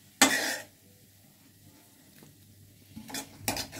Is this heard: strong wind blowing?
no